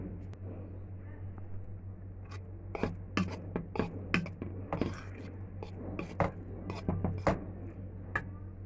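Soaked, swollen flattened rice (chira) being mixed with mashed banana for a sweet pitha, heard as soft, irregular wet squishing and scraping strokes over a steady low hum, with no talk.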